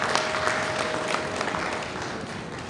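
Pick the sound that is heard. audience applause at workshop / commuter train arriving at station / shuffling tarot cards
audience applause at workshop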